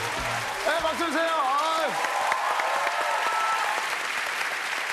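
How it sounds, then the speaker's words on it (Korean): A studio audience at a Korean TV comedy show breaks into sustained, even applause, with a voice calling out briefly at the start before the clapping carries on alone. "네, 박수 주세요."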